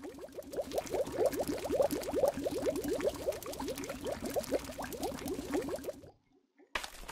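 Kick the Buddy ragdoll dissolving in an acid container: a dense run of wet, bubbling squelches and fizzing plops at steady volume for about six seconds, then a sudden cut to silence with one brief blip near the end.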